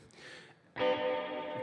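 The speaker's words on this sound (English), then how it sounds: "It's reverb to the point of debauchery." A sound drenched in heavy reverb at an open mic night, starting faint and then swelling into a loud sustained tone with a long echoing tail.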